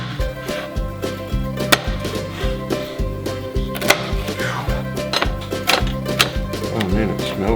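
A knife slices food thin on a cutting board for fish tacos, rapid rhythmic chopping taps close by, steady and continuous, with a voice talking over parts of it.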